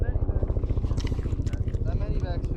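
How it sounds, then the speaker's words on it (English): A medevac helicopter hovers nearby outdoors, its steady rhythmic rotor thumping continuing throughout beneath people talking. "Why is there a helicopter?"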